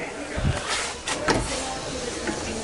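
Sliding door on an old steam train carriage pulled open by its handle, giving a couple of short rattling thumps and a rolling slide, close by, with faint room noise around it.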